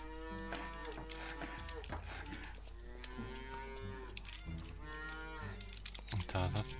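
Cows moo repeatedly in the farming video game Farmer's Dynasty, several long, drawn-out lowing calls following one another at close range over a steady low hum, with no talking.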